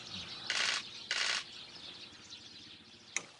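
A trapped kestrel beats its wings in two loud bursts of flapping, followed by faint fluttering and a couple of sharp clicks, with no voices.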